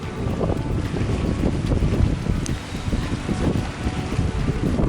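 Strong wind buffets the microphone in a continuous roar of gusts during a pack raft crossing in Alaska, with water sloshing faintly underneath.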